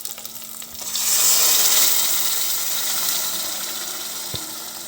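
Water runs into a pot of lentils for washing, a steady rushing hiss that swells after the first second and then eases off slowly, with a faint low hum underneath and one brief clink near the end.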